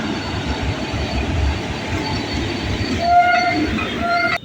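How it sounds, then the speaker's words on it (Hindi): A train pulling out toward Sitapur Junction rumbles steadily and loudly nearby, with a sustained horn tone sounding in the latter part and faint wheel squeal. "स्टार्ट हो गई है, चल पड़ी है सीतापुर जंक्शन की दिशा में"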